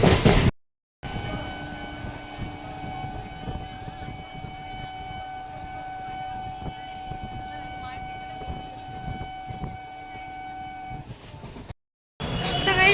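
A train stands at a railway platform, giving off a steady mechanical drone with sustained tonal hums and occasional clanks, while faint voices move around in the background.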